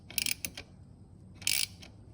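Bolts on a KTM 450 SX-F chain slider being snugged down by hand, giving short close-up bursts of ratcheting clicks: a quick cluster, a brief pause, then another burst, quiet overall with no voices.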